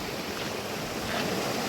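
A large mountain river rushes beside a footpath, a broad steady roar like surf with some wind buffeting the microphone, continuous and near, without speech.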